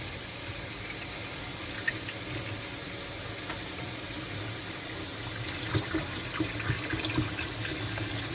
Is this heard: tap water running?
yes